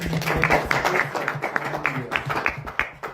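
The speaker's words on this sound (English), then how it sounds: "Clap for him." A small group claps steadily for a few seconds at an investment meet-and-greet in Nairobi, Kenya, the claps close and uneven, with voices murmuring underneath.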